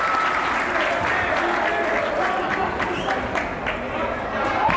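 Spectators at a Morris Catholic vs. Saddle River Day girls basketball game clap steadily in a gym, with crisp hand claps over a murmur of voices that swells slightly near the end.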